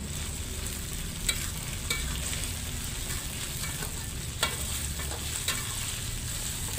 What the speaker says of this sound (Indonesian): Saya tumis bumbu ini hingga benar-benar matang, hingga benar-benar wangi.